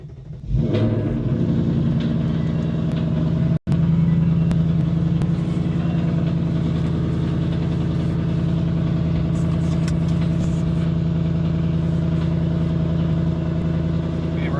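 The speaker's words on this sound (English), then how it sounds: "here is a cold start from the POV view." A 2024 Ford Mustang GT V8 cold-starts with a loud roar, then holds a deep, steady idle rumble close by, with a brief interruption partway through.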